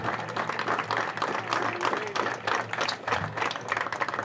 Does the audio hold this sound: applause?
yes